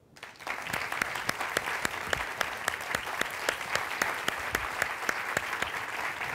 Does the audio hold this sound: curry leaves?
no